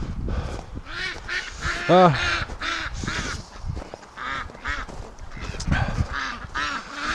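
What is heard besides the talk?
ducks quacking and honking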